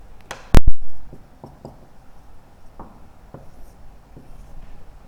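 Chalk or marker writes on a board during a maths lesson, faint scattered taps and short strokes following one loud knock near the start.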